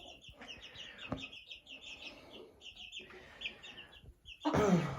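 Chickens in a village yard, a rooster with hens, cluck and chirp in repeated short bursts at moderate distance, ending in a louder, harsher squawk near the close.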